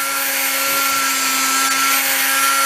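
A rotary tool driven through a flex shaft whirs continuously at a constant high speed, a steady, fairly loud hum with a bright whine and no pauses.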